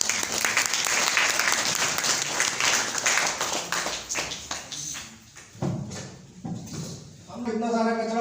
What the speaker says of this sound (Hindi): एक जोरदार ताली डॉक्टर साहब के लिए भी होनी चाहिए।